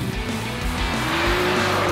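Rear tires of a 2016 BMW M2 squeal loudly as the rear slides out under hard acceleration, a continuous shrill screech over the engine roar, close and sustained.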